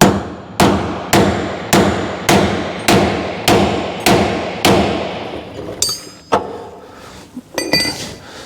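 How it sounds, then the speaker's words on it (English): A hammer strikes a chisel on a stuck bolt, about nine loud ringing metallic blows in a steady rhythm, each decaying with a clang, followed by a few lighter, irregular taps and clinks, close up with no talking. "we'll just give him a hit with the chisel and the hammer"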